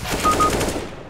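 Rapid burst of AK rifle fire in the CS:GO video game, a quick string of loud, close shots over about a second with no talk.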